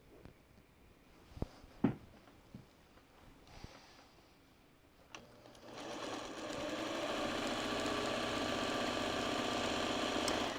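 A sewing machine pieces quilt blocks together, starting after a few scattered soft knocks and handling noises, then running as a steady close hum for the last several seconds.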